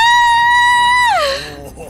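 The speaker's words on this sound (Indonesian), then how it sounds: "Wow, teriakannya kenceng juga." A loud, sustained high-pitched scream holds steady, then slides downward and trails off, close and alone, in a Halloween horror prank setting.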